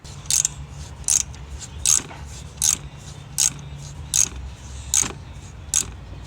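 Threading an M12 x 1.25 hole by hand with a tap gives about eight evenly spaced clicking, ratcheting turns, close and distinct over a low steady background hum.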